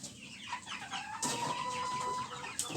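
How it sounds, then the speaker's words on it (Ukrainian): Chickens and roosters clucking and chattering nearby on a farm, with a drawn-out higher call running through the middle, fairly quiet overall. "з Київщини приїхали курочки і вони все чудово живуть"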